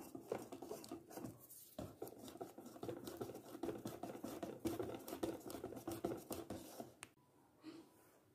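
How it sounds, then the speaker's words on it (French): A utensil beats an egg into pancake batter in a bowl, giving quiet, rapid rhythmic scraping and tapping strokes that stop near the end. "On vient mélanger le premier œuf"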